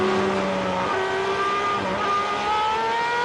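A Superleague Formula race car heard on board at Vallelunga, its engine whining loud and close as the revs climb and drop with quick paddle-shift gear changes.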